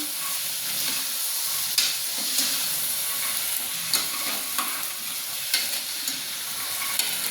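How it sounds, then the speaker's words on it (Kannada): Chickpeas lightly frying in a pan, a soft even hiss of sizzling oil with occasional sharp taps and scrapes of a spoon, close and steady without speech. "ಇದನ್ನು ಸ್ವಲ್ಪ ಫ್ರೈ ಮಾಡ್ಕೊಳ್ಳೋಣ ಕಾಳು ಜೊತೆ"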